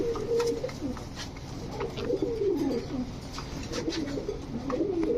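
A pair of Jharna shatting pigeons coo steadily in low, rolling, repeated phrases, close by, with a faint background murmur.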